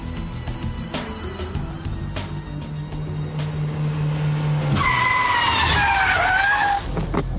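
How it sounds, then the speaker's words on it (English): A car performing handbrake turns, reverse flicks and Scandinavian flicks into lift-off oversteer: an engine drones and revs, then tyres break into a loud, long wavering screech of skidding rubber close by, with no voices. "the handbrake turn followed by reverse flick, and the Scandinavian flick followed by lift-off oversteer."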